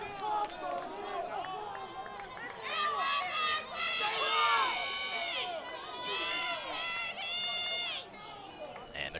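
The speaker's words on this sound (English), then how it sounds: "the crowd tries to get loud here on a big 4th down play" High school football crowd at Peddie versus Malvern Prep swelling on a 4th down play, with rising cheers, shouts and chatter from the stands, distant and layered.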